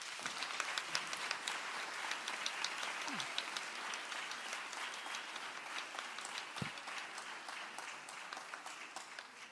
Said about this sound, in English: let's give a resounding round of applause